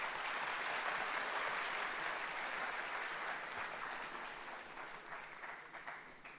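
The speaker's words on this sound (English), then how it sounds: "you deserve a good round of applause" An audience at a college diploma convocation and degree ceremony in Mumbai applauds graduating students, a dense steady wash of clapping heard from a distance that slowly fades toward the end.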